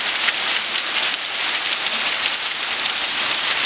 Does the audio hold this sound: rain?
yes